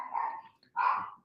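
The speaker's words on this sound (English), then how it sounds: "My dog is going insane." A dog barks twice indoors, two short loud yelps separated by a brief pause, with no one talking.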